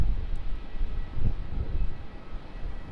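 A Singapore Airlines Boeing 777 departs Melbourne Airport, a broad, steady low jet roar heard from a distance, swelling slightly and then holding as it climbs away.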